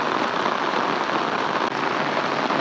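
Heavy rain falls in a Punjabi village, a loud, continuous hiss of drops drumming on the ground and roofs close by, steady from start to finish.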